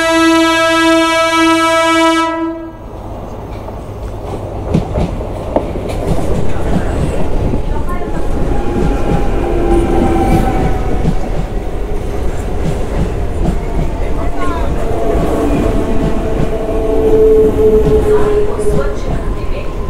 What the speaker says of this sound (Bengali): ট্রেন আসছে, দেখো আসছে, এই যে ট্রেন ঢুকছে।